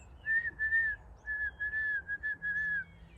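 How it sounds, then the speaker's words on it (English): A shepherd's whistle gives the walk-on command to a young sheepdog in West Kerry, Ireland: a quick run of about seven short, shrill, evenly pitched blasts in an uneven rhythm, loud and close over quiet background. "and then for stop it's just one blast on this whistle."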